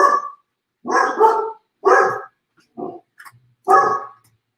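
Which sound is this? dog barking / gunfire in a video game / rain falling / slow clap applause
dog barking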